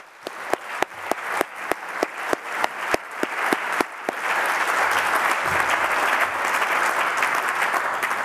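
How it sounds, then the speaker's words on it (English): Audience at an EICC Live talk applauds the speakers, starting with several distinct, evenly spaced claps that quickly swell into sustained, dense applause from a full room. "Can we just have a round of applause for Ray and Russell"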